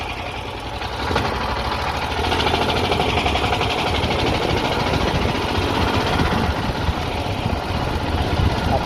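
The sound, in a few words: dune buggy engine running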